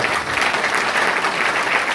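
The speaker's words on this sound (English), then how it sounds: "much more bigger and louder round of applause for yourself" A large crowd at a skill-training gathering in Sunyani claps loudly and continuously, a dense, even roar of hands filling the whole stretch with no break.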